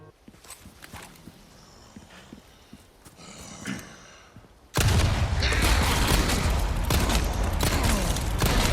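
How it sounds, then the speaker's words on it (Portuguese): Quiet footsteps and shuffling give way to a sudden, dense burst of rapid gunfire that continues loudly to the end, in the video game Resident Evil 4 Remake. "o barulho dos tiros"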